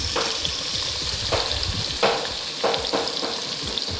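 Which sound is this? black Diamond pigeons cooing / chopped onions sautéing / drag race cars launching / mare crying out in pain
chopped onions sautéing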